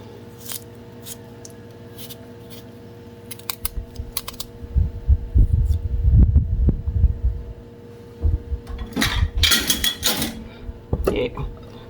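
Garlic being roughly chopped into big minces on a cutting board while making a Tobago melongene breakfast, a run of close, loud knife knocks and clatter building through the middle, with scattered kitchen clinks around it.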